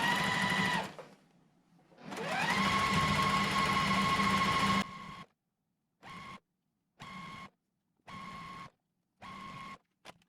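A sewing machine stitches quilt block pieces together, running in a long steady burst, pausing, then starting again before breaking into five short evenly spaced bursts, close and clear with no talking.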